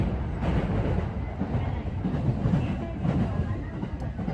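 A Tokaido Line train bound for Hiratsuka runs along the track with a steady low rumble and faint rhythmic rail clatter, heard from inside the carriage, with quiet voices nearby.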